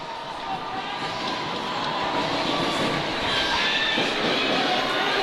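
A hockey crowd at a St. Paul's School versus Phillips Andover game in overtime roars steadily as a power play begins, a broad, sustained wash of cheering that builds slightly over several seconds.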